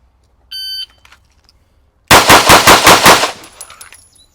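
Pistol fired in a rapid string of about seven loud, evenly spaced shots during a shooting drill, close and sharp, preceded by a short electronic beep from a shot timer.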